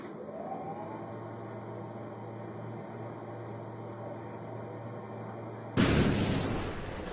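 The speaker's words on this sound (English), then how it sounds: "That is a motion-activated sentry gun." A motion-activated sentry gun in an animated parody abruptly opens up after a steady electronic hum, a loud sustained burst of rapid gunfire that cuts in near the end and carries on to the close.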